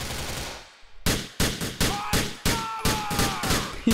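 Gunfire from the game GTA IV, a volley of about nine sharp, loud shots in quick uneven succession, each cracking and decaying, over a faint background.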